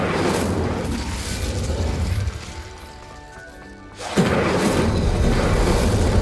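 Fiery blast from the Incendio spell in Hogwarts Legacy: a loud, roaring burst of broadband rumble that drops away into a quieter lull, then erupts again with a second sudden, sustained fiery roar.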